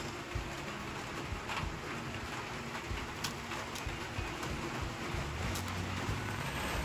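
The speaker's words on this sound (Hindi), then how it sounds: "सॉरी आपको शोर भी आ रहा होगा क्योंकि ऊपर छत है ना और बाहर बारिश लगी हुई है उस वजह से" Rain falling outdoors onto a roof overhead, a steady, soft hiss of drops with faint scattered taps, continuous and distant-sounding, with no talk.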